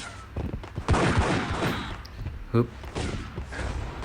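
Several sharp gunshots from the game Max Payne (mobile) crack in quick bursts, with thuds and impacts scattered through, mixed with a voice talking over the action.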